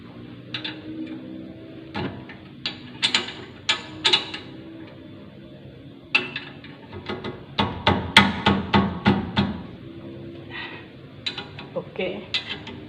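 Metallic clicks and taps from a ring spanner working the two brake caliper mounting bolts on a disc brake, sharp repeated ratcheting bursts close by, spaced irregularly, with a quick flurry in the middle.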